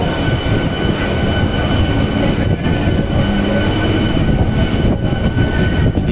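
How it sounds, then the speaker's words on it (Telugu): Train pulling out of Kanyakumari station, a loud continuous rumble of coaches on the rails with faint wheel squeal and occasional jolts, heard from inside the last coach. "కన్యాకుమారి స్టేషన్ నుంచి రైట్ టైంకి అయితే ట్రైన్ బయలుదేరింది"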